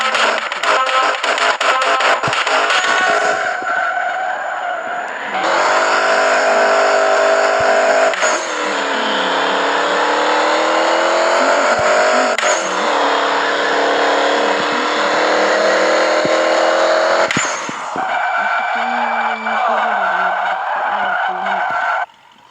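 A Camaro fitted with an Opala transmission revs hard and shifts through its gears, the engine note climbing sharply then dropping at each change, loud and close, with brief squeals as it pulls away.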